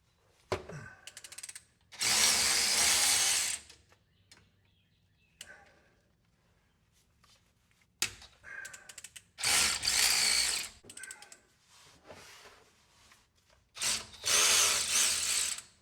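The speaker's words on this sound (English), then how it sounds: "So let's go ahead and loosen some of these top bolts here." Loosening the top differential cover bolts on a 2022 Ram 3500 High Output diesel truck, with bursts of power-tool whirring and ratcheting in three long runs separated by quieter clicks and handling noises.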